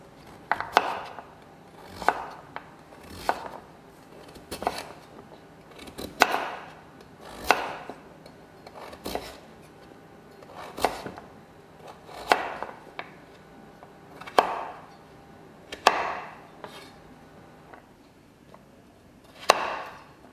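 A knife chops vegetables into 1 centimeter cubes on a board, sharp close knocks landing in a steady rhythm of about one every 1.3 seconds and carrying on alone, with no voices.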